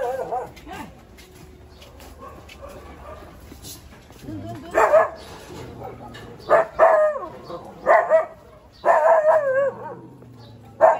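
A dog barks and yips several times in short clustered bursts, fairly near, with people talking at times around the barking.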